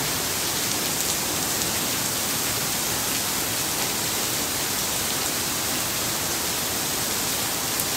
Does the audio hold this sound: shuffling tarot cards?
no